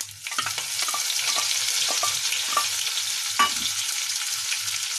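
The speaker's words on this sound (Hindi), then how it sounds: "अब मैं इसमें ये सरसों के दाने डाल दूंगी और साथ ही ये मेथी भी डाल दूंगी मैं इसमें।" Mustard seeds and fenugreek leaves hit hot oil for green fenugreek chutney, a constant bright hiss of frying with occasional small pops and crackles, close and steady, no voices.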